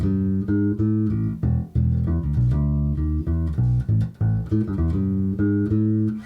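Electric bass guitar plays the opening pattern of a song, picked notes ringing out one after another in a steady, moderately loud melodic line with brief gaps between phrases, no talking.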